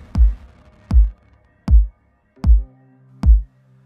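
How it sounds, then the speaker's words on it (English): Five deep, punchy TR-909 drum machine kick drum hits, evenly spaced and isolated, each with a booming low thump and quick decay. "This is the sound of a kick drum from a TR-909 drum machine."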